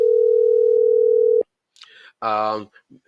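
A telephone dial tone hums steadily for over a second on a call-back, then cuts off, followed by brief clicks and a short burst of speech.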